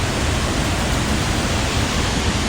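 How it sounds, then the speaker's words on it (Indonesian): Dense, steady roar of water plunging down the Sekar Langit waterfall, heard from right beneath it, loud and continuous with no breaks or voices. "kita tepat berada di bawah air terjun tersebut pemirsa"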